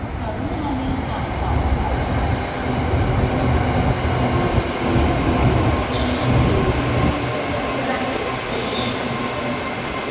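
Train rolling into a Thai railway platform on the line toward Rangsit station, a steady loud rumble and rail hum with faint clatter throughout, a voice talking over the approach.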